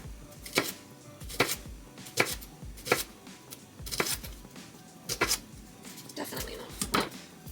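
A knife chops shallot on a cutting board in irregular, crisp taps, several spaced strikes close by in a quiet home kitchen.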